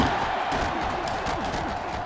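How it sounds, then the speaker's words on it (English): Stadium crowd roar in the NCAA Football 2005 video game, a dense continuous wash of cheering noise, loud and steady across the short stretch with no distinct voices. "So this crowd is making their presence felt."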